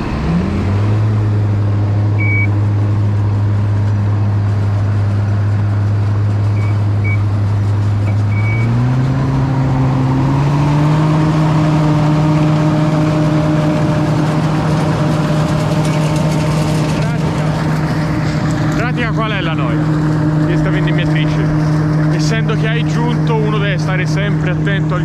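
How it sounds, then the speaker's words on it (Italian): An old, fully mechanical Alma grape harvester runs loud and close, its engine droning steadily and then stepping up in pitch partway through, with a person speaking over it. "Vendemmiatrice dell'Alma, abbastanza vecchia perché non è idraulica, è tutta meccanica"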